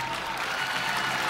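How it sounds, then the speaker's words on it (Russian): Audience applause at a KVN comedy show, a dense, loud, continuous wash of clapping from a large crowd in a hall. "Аплодисменты, дорогие друзья."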